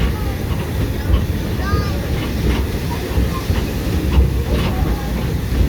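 A wood- and coal-fired steam train rolls along with a continuous low rumble, hiss and faint rhythmic clatter, heard close and steady throughout.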